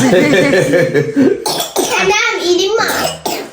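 A small child coughs several times in quick bursts, close and loud, mixed with the child's own chatter and a bit of laughter.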